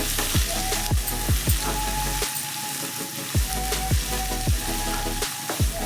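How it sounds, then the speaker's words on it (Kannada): Chopped onions fry in a pan with a little salt for vermicelli upma, a loud close sizzle punctuated by repeated scraping stirs of a spoon at a steady rhythm. "ಈರುಳ್ಳಿಗೆ ಸ್ವಲ್ಪ ಉಪ್ಪು ಸೇರಿಸ್ಕೊಂಡ್ರೆ ಬೇಗ ಫ್ರೈ ಆಗುತ್ತೆ"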